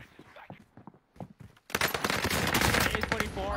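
Rapid automatic gunfire from a Blixen gun in a video game, bursting in loud and sustained after a quieter stretch with low talk, continuing as a dense, steady stream of shots.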